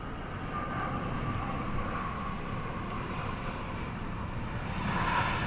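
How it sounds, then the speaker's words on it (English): An Asiana Airlines airliner at Seoul Incheon Airport, a faint, distant and steady jet roar that swells slightly near the end, with no one speaking. "That was an Asiana flight in the foreground."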